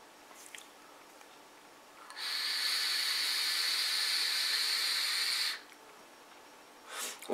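A long exhale of e-cigarette vapor from Tom Klark Sawyer Dessert liquid at 30 watts, a steady broad hiss lasting about three seconds, fairly close and alone, with a faint breath at the end.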